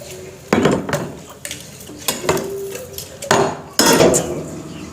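Dishes, pots and pans clatter and clink while being washed by hand, a series of sharp bursts of clanking with quieter scraping between them, close and fairly loud, no talking.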